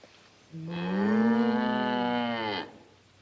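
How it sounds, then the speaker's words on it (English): A single long, loud cow moo on a farm rises and holds for about two seconds with a clear tonal drone, then cuts off into quiet. "a cow named Melissa II"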